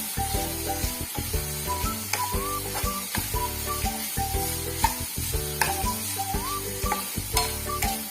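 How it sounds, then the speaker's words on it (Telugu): Jackfruit curry seasoned with salt is stirred in a hot pan, producing a steady sizzle with rhythmic stirring scrapes over background music. "వేసేసి ఒకసారి మళ్ళీ కలియబెట్టుకుందాం."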